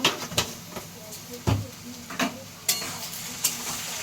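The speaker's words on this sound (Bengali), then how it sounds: "আর এটা এখন লাল লাল করে ভাজা হোক" Salted potatoes fry in a pan for flattened-rice pilaf, a soft sizzle under scattered close clinks and scrapes of stirring.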